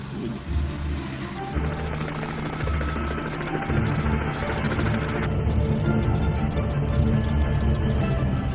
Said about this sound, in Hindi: यहाँ हेलीकॉप्टर ज़्यादा उतरता नहीं है, तो बच्चों की लाइन लगी है स्कूल की इस हेलीकॉप्टर को देखने के लिए